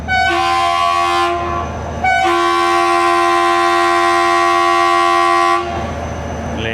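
A train departing Jung Shahi station sounds its horn loudly up close: a brief blast, a short gap, then a long sustained blare over the engine's steady rumble, which continues after the horn stops.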